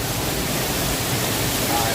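Roaring waterfall at Wang Sai Ngam in Thailand, a steady broadband rush of falling water filling the whole stretch with no pause, fairly loud and close.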